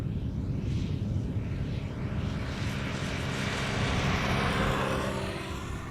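A three-year-old KLM airliner, registration PH-BKI, arriving at Amsterdam Schiphol from Chicago, a loud sustained jet roar that stays steady and full throughout, with a rising whine in the upper range as it passes.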